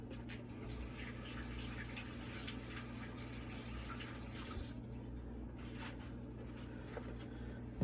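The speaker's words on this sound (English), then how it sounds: "Let me wash my hands real quick." Water from a kitchen tap runs steadily for handwashing, a constant close rushing and splashing with no talk over it.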